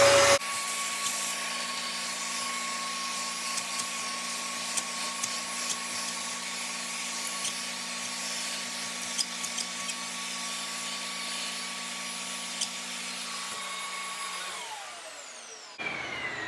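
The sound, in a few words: vacuum cleaner cleaning bath fan vent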